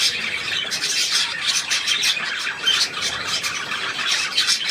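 A pet budgerigar kept indoors squawks and chatters in rapid, harsh bursts that come close together, loud and near, with no voices.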